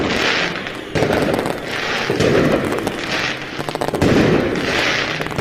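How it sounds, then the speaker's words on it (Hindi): Diwali firecrackers burst in rapid, overlapping volleys, loud and dense, with crackling pops and booms repeating in waves throughout and no voices heard. "खूब पटाखे फोड़े"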